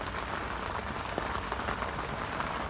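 Cold spring rain falls steadily at a lake where carp anglers sit, a dense even hiss of drops with occasional louder patters on nearby surfaces, no voices.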